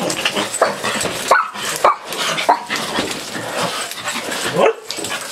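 Miniature Pinschers bark repeatedly in sharp, yappy bursts, close and loud, with some whimpering yips between barks.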